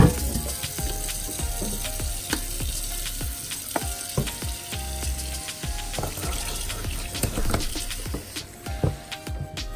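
Tap water runs into a vintage Griswold No. 8 cast iron skillet, splashing and hissing continuously up close with occasional knocks and clatter of the pan in the sink.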